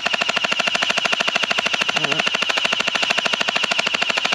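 Rapid automatic fire from a gel blaster, a fast even stream of mechanical shots repeating without pause, loud and close throughout.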